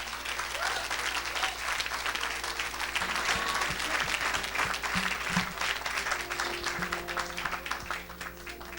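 An audience at a church service applauds steadily, a dense continuous wash of many hands clapping that holds at an even level throughout, with no speech standing out above it.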